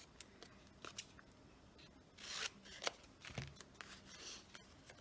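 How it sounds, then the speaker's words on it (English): Scissors snip through a paper picture being trimmed for a journal page, a few quiet, irregular cuts with soft paper rustling and handling noises between them. "So I'm going to trim this guy up a little bit."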